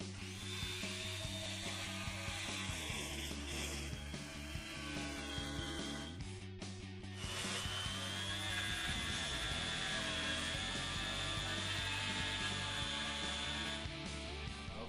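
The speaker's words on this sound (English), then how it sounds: "A nice jigsaw and a nice metal cutting blade will do the trick." A jigsaw fitted with a metal cutting blade cuts through an aluminum skid plate for a Ram ProMaster City. The rough, buzzing saw noise stays loud and steady, with one brief break about halfway through.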